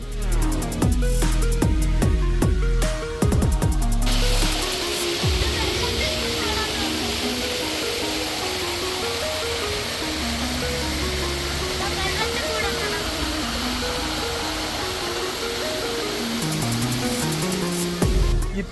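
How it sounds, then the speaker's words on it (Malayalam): A stream flows beside a temple parking area near Kanyakumari as a steady, fairly loud rushing wash. A brief burst of music-like tones comes at the start. "ഈ ഒരു പാർക്കിംഗ് ഏരിയയിൽ കാണുന്ന അമ്പലവും ഇവിടുത്തെ ആ അരുവിയൊക്കെ വളരെ മനോഹരമാണ്"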